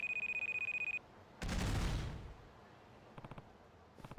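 An electronic alarm rings in the Judgment game with a rapid pulsing beep for about a second, then a loud burst of noise and a few faint clicking pulses follow.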